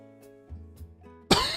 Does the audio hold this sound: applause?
no